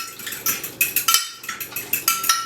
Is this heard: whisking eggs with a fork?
yes